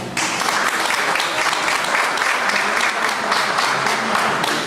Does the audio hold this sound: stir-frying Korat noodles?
no